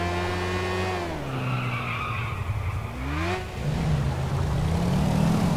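A motorbike in GTA 4 skids with a long tire screech over a droning, shifting engine tone that rises and falls as it slides, steady and close, with no talking.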